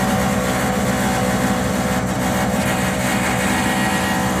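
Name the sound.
furnace exhaust fan running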